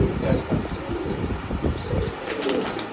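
A released pair of imported-bloodline high-flying pigeons beat their wings in a rapid, fluttering burst close by, continuing over a rough outdoor background with no talking.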